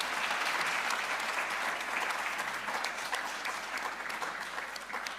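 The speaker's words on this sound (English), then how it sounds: "Can we give them a round of applause," Audience applause for panel speakers at a future-of-work conference dialogue, a steady, full round of clapping from a sizeable crowd held evenly throughout.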